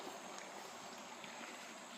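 Cycle Park Creek running steadily, a constant soft rushing wash of flowing water heard from nearby with no other sounds.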